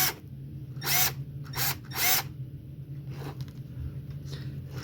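A Milwaukee M12 compact 1/4-inch hex impact driver is triggered in three sharp, loud bursts close by, each a high buzzing whir of under half a second, followed by a few fainter, shorter pulses.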